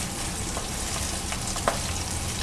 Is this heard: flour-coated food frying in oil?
yes